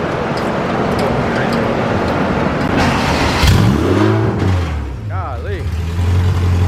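An AWD Honda CRX revs on a dyno close by, with a loud, steady engine drone and a pitch that swoops up and back down midway, while people talk over it.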